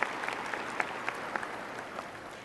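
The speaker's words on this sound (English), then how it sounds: "round of applause for that" An audience applauds at a high school graduation ceremony, a steady bed of clapping with a few sharper individual claps standing out, moderately loud and continuous.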